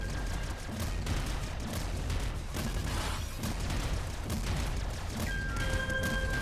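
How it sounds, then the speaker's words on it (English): Heavy grenade launcher blasts in the video game Nuclear Throne: dense, continuous booming explosions and crackling bursts, loud and close, layered with game effects and a few brief tones near the end. "take the heavy grenade launcher just for this fight"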